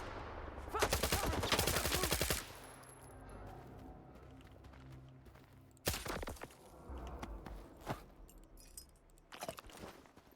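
Video game gunfire: one long rapid automatic burst, then sharp separate shots and shorter bursts with quieter rattling and clinks between them.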